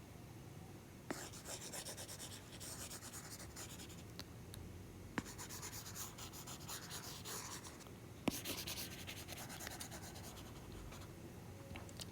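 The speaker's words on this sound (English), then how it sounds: "So we can erase this." An eraser rubs steadily across a board in a continuous dry scraping, with a few faint knocks along the way and no voices.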